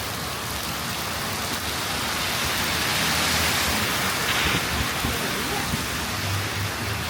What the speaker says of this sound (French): Là, il pleut énorme.